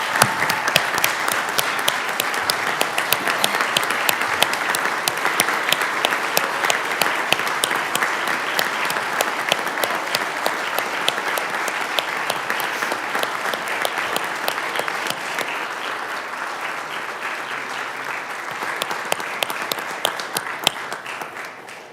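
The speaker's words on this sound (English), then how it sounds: "Let's give them a round of applause." An audience at a city council meeting gives sustained applause honoring veterans, dense clapping from a large crowd that runs strong throughout and eases slightly toward the end.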